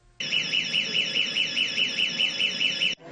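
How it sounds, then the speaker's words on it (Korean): An emergency call bell, its protective cover torn off, blares a loud electronic alarm for about three seconds: a steady, rhythmically warbling tone that starts and stops abruptly, with no voices. "피해 여성이 누른 비상벨에서 경보음이 울렸습니다"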